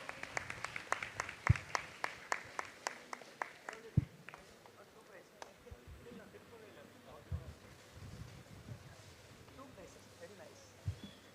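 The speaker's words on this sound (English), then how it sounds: "Give them a big round of applause." Crowd at a campus awards ceremony applauding a team, sharp scattered claps that start fairly crisp and thin out into softer, irregular clapping and murmur toward the end.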